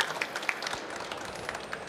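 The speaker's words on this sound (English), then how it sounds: "Warm applause." Audience applause after a presentation on hydrogen production and fueling for heavy-duty vehicles; a soft, fairly distant patter of many hands, steady for about two seconds.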